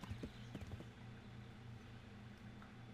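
A horse's hooves in the video game Kingdom Come: Deliverance clop faintly in a quick, uneven run of soft thuds early on, then fade to a low background hum.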